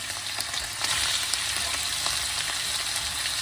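Meat frying in rendered goose fat without added oil, a dense, steady sizzle with small crackles and pops throughout, close and continuous with no voices.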